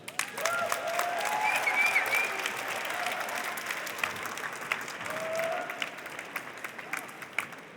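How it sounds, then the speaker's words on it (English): Moderate audience applause at a fashion talk, steady clapping for the organising team that swells and eases, with faint voices murmuring beneath it. "could I ask a round of applause for my team"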